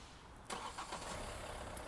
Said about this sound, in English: Just waiting for this car.